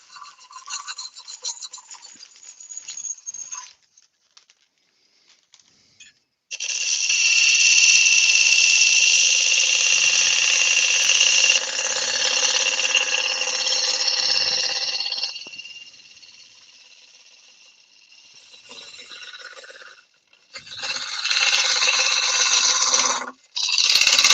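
A woodturning gouge bores out the centre of a spinning workpiece on a lathe, making loud, harsh, rasping cuts in long bursts separated by brief quiet gaps.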